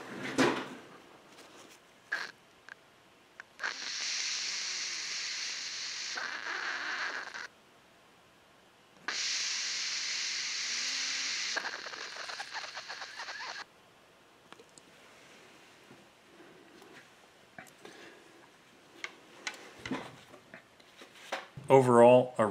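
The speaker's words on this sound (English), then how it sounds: "you'll hear first no flow, then full flow with the button pressed in, and then the limited flow with the valve released" Gas rushing through a Robertshaw FMDA flame safety valve as it is operated by hand: two steady, bright hissing spells of several seconds each, separated by a pause, with clicks and handling noises close by.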